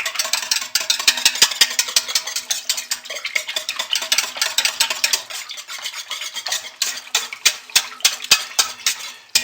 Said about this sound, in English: put my fragrance in, stir it by hand